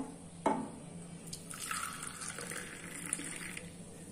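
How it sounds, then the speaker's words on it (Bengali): Hot milk pours from a kitchen pan into a cup for a child, a soft splash at first and then a thin, quiet trickling stream that runs for a few seconds, faint and close with no voices. "এবার ছেলের দুধটা ঢেলে দেবো, দুধ গরম হয়ে গেছে"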